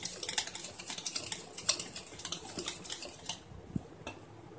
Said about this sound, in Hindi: इसे अच्छे से मिक्स करेंगे चलाते हुए